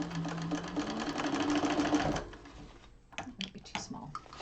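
A sewing machine runs steadily for about two seconds, stitching a backstitch at a short stitch length with a 5/8-inch seam while making a bag. It is loud and close, then stops, and soft handling clicks of fabric follow.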